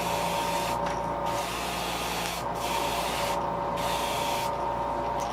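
A heat gun blows steadily over an airbrushed fishing lure to set the paint, a continuous airy whoosh with a fan hum, interrupted by a few brief breaks in the airflow.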